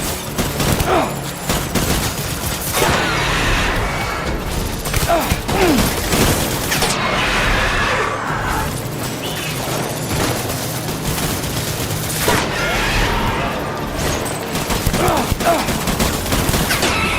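Video game gunfire in Death Stranding: dense, continuous volleys of shots and bursts with crashes, layered with game effects and mixed under occasional voice.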